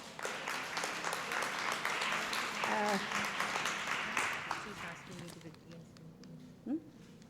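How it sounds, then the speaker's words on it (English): Applause from an audience at a Cambodian gathering honoring exhibition helpers, a moderate clatter of hands that thins toward the end, with voices talking over it and a brief louder bump near the close. "Let's give an applause"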